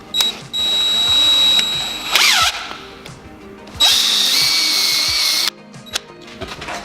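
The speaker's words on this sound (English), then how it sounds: "we're going to be using a little center drill just to" A small center drill whines as it pilots a hole in metal before tapping, two loud sustained bursts of power-tool drilling with a brief pause between and light clicks around them.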